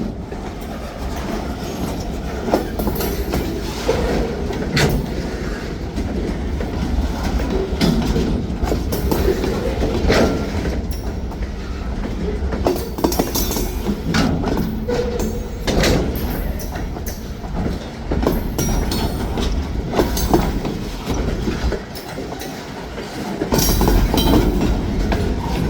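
Vintage freight train rolling past close by on steady track, a loud continuous rumble of cars with clickety-clack wheel beats, occasional squeals and metallic clanks throughout, with no talking.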